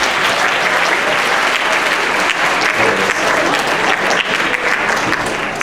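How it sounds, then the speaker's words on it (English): Sustained applause from an audience at a middle school spring band concert, steady dense clapping filling the room for several seconds with no voices standing out. "So let's give him a clap."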